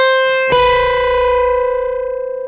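Two test notes on an electric guitar through a Cornford Hellcat or Suhr amp: one struck note rings alone, then a second hits and both sustain together, loud and close, decaying slowly with a faint wobble.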